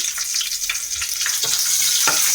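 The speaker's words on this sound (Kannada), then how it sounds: "ಹಸಿರು ಮೆಣಸಿನ್ಕಾಯಿ ಸೇರಿಸ್ಕೊತಾ ಇದ್ದೀನಿ" Green chillies and kasuri methi fry in hot oil for a chicken gravy, a steady loud sizzle throughout with a few soft stirring knocks, close up and without talk.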